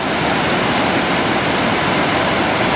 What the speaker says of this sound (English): Got a nice little side-on view of the Cascade through the trees.